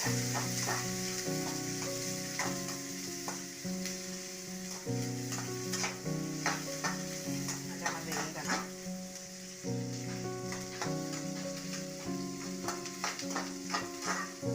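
Chopped onions and shallots sizzle and crackle steadily in a hot pan while being stirred for a squid curry, with scraping and clinks of a spoon against the pan throughout and music playing underneath.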